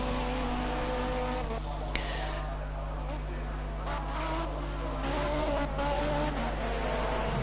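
A BMW GT3 race car drives around a track in a qualifying session, its engine a steady droning roar heard from inside or close by, with a commentator talking over it.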